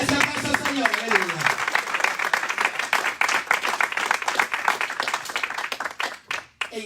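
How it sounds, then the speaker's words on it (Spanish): A church congregation claps for the Lord, a brisk, loud run of many hands clapping in quick rhythm with voices calling out beneath it, tapering off near the end. "Ese aplauso al Señor"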